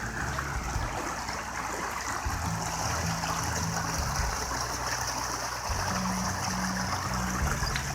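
Small stream with many waterfalls rushing in a steady, loud broadband wash, continuous and close, with low tonal hum underneath and no voices.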